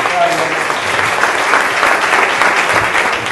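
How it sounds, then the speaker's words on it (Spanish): A crowd applauding at a book presentation and tribute event, loud dense clapping sustained without a break, close and full, with a faint murmur of voices underneath. "Un aplauso para Ricardo"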